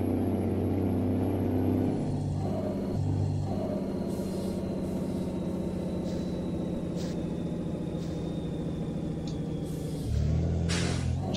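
Heavy Mercedes-Benz Atego truck engine in Euro Truck Simulator 2, hauling a load of pipes, a continuous low rumbling drone with a steady whine on top, briefly shifting pitch as a gear changes near the start and end.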